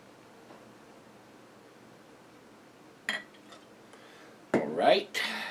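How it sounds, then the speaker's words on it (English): Stone Brewing R&R Coconut IPA is poured from a bottle into a pint glass, preceded by a couple of glassy clinks, then a brief close splash and fizz over a quiet background. "Alright, into the glass it goes."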